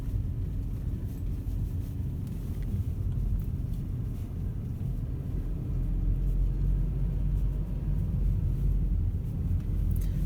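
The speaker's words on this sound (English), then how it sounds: "Looks like this is a plow truck up here." A snow plow truck drives along a wintry road, its engine a steady low rumble that stays loud and close throughout, swelling slightly toward the end.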